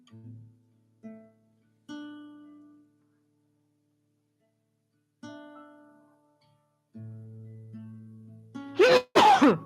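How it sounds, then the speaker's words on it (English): A single sharp sneeze bursts out loudly near the end, after a few quiet, sustained gong tones with pauses between them during a yoga nidra session. "Makes me sneeze."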